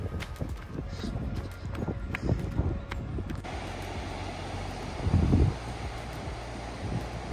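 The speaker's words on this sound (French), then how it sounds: "Il y a un vent de ouf." Strong wind at a beach roars and buffets the microphone in low, gusty rumbles, with rustling throughout and a heavier surge midway.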